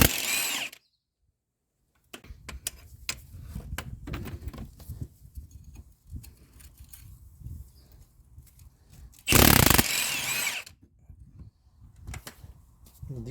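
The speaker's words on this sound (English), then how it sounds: "usually I use an impact to remove the nuts" Loud bursts of an impact wrench rattling off 19 mm wheel nuts on a 2005 Toyota Corolla 1.8 in a garage, one short burst at the start and another near the end, with clanks and handling noises between.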